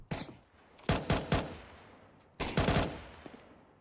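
Sniper rifle shots in a Counter-Strike esports match, a Scout firing a sharp crack near the start, then a rapid burst of three loud reports and another cluster of three toward the end, each with a short decaying tail.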